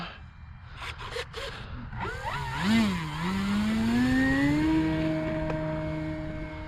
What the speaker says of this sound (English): I'm gonna take off kind of into the wind. Take off flaps.